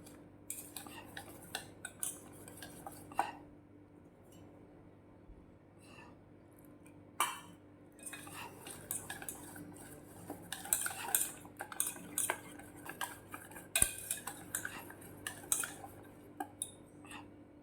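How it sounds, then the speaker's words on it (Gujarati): A spoon clinks and scrapes against a bowl in bursts of mixing fritter batter for ripe banana and capsicum bhajiya, quiet at first and becoming busier and more rhythmic later on. "પહેલાં આપણે બરાબર મિક્સ કરી દઈશું"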